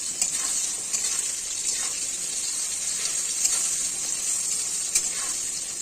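Potato pieces fry steadily in hot oil with salt and turmeric for a vegetarian drumstick dish, giving a continuous, close, even sizzle with faint stirring scrapes and no talking.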